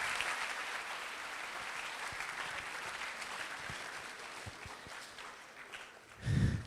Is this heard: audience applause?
yes